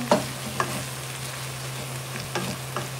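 Tomato stirred into a frying pan for a mung bean and banana heart dish brings a steady low sizzle, with a few light scraping clicks of the spoon and a constant background hum.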